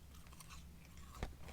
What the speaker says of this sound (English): did you hear a little crunch then?